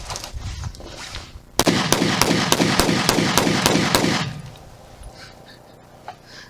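A Ruger EC9s pistol fired in a quick string of about nine sharp shots at an even rhythm, loud and close, followed by quieter ambient noise.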